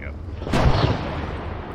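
A tank cannon firing in ArmA 3: a single heavy, booming shot, loud and close, with its rumble trailing off over the next second, and a voice speaking faintly around it.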